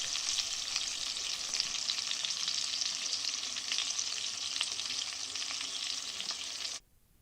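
Thick pork chops cook over a medium fire with a steady, close, dense sizzle that holds evenly for several seconds and then cuts off abruptly near the end.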